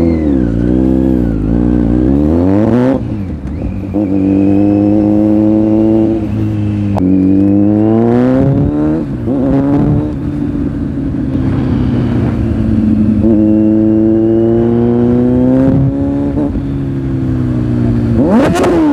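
A Kawasaki Z900 motorcycle engine revs repeatedly up close, its pitch climbing and falling in several loud surges, with the rider on the bike.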